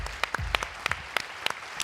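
Indoor audience at a corporate summit applauding, dense steady clapping with sharp individual claps standing out, fairly close and sustained, no voices on top.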